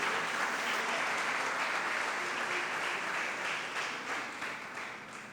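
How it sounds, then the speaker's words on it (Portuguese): Applause from a church congregation fills the room, a steady wash of many clapping hands, moderately distant and fairly soft, easing slightly toward the end. "Vamos aplaudir o Senhor por tão grande perdão"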